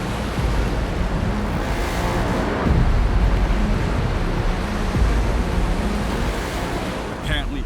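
Rough ocean surf where the sea currents meet a lagoon near shallow reefs, a steady loud wash of breaking waves with no clear gaps.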